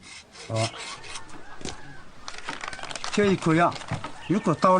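Rasping scrapes of a hard Chinese medicinal remedy being ground into powder for wound treatment, a few short rough strokes, with a person talking over the later part.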